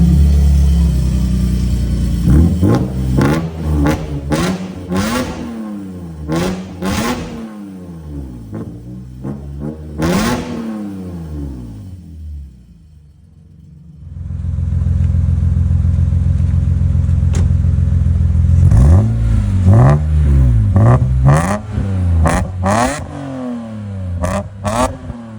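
BMW E46 M3 wagon with a freshly broken-in engine revs hard while driving, repeated sharp rising pulls and gear-change dips, a brief quieter lull midway, then a long loud cruise and more pulls, close inside the car, no talking.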